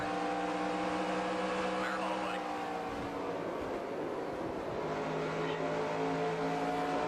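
Truck engines drone steadily in the NR2003 racing game at Rockingham, with pitch sweeping as the truck runs through the turns and lifts off the throttle. Other trucks blend into the sound, which is continuous and moderately loud.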